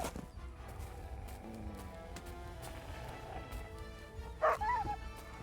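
Mutt, a dog in the video game Kingdom Come: Deliverance 2, gives a short yip and whimpering bark near the end, rising briefly over a constant background of game music and ambience.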